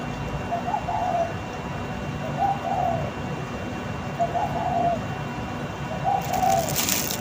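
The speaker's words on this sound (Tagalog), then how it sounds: "ito mo ito na ibon" Soft cooing from a pigeon or dove, four short coo phrases spaced a couple of seconds apart over a steady low background hum.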